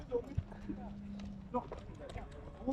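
Horses' hooves knock sparsely at the Kara-Balta livestock market, a few scattered clip-clops under nearby talking.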